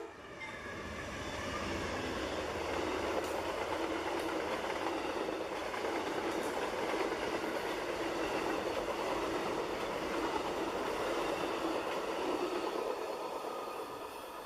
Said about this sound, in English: Notice Amtrak's slower speed as it passes us as the engineer prepares to comply with the slow order